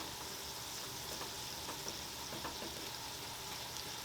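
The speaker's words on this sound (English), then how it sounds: "so I'm going to lay down some more butter" Butter sizzles on a Blackstone E-Series 17-inch tabletop griddle, a faint, even hiss with light crackling held steady for a few seconds and no voices.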